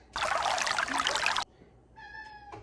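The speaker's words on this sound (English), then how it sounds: "It's my cat." A pet cat meows a few short times in a home kitchen just after a loud pour of liquid, the cries close and fairly quiet.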